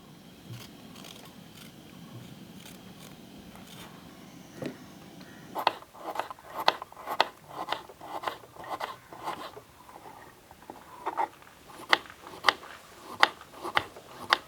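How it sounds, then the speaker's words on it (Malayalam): Carrots being peeled in a home kitchen while making ghee rice: a quiet stretch gives way to a close, steady run of about a dozen crisp scraping strokes in an even rhythm, with no talking. "അപ്പോൾ നമുക്ക് ക്യാരറ്റൊക്കെ ഒന്ന് തോലൊക്കെ കളഞ്ഞെടുക്കാം കേട്ടോ."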